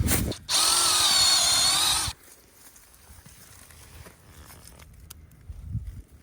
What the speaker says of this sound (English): And then we're going to drill at an upward angle.